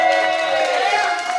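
An audience at a live comedy show in Chicago claps and cheers for a comedian, a short dense burst of applause with crowd noise.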